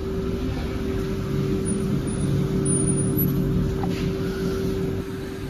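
A white Porsche Cayenne GTS rolls in and brakes on a suburban road near Kyiv, its engine a steady low hum held close and fairly loud, with no talking over it.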